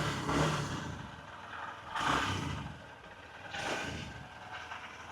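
A Honda Shine motorcycle engine and exhaust, in ideal condition, runs near at a steady idle and rises into three short throttle blips spaced a second or two apart, each swelling and settling back.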